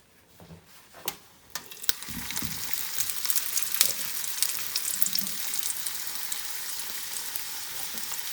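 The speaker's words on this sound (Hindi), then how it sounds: "इसी तरह दूसरा भी हम लोग फ्राई कर लेंगे" Vegetable cheese crepe frying in a pan, a steady close sizzle building after a few soft clanks and continuing throughout.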